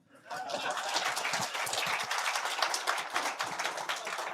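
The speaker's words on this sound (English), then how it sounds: "I always request for a clap." An audience claps at the 2025 annual general meeting of the Telposta Pension Scheme, a dense, steady round of applause from a crowd that lasts several seconds.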